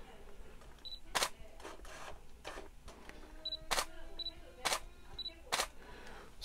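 A Canon 7D Mark II DSLR fires its shutter repeatedly in normal mode, giving a series of sharp, quick mechanical clicks spaced about a second apart, close and crisp, with faint beeps and quiet room noise between shots.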